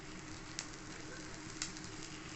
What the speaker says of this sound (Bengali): লো ফ্লেমে এটা আমি আস্তে আস্তে ভেজে নেব।